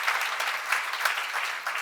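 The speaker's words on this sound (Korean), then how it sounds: "지금 빨리 박수해 하세요" A church congregation at a seminar bursts into dense, steady applause, many hands clapping together at a moderate distance with no voice over it.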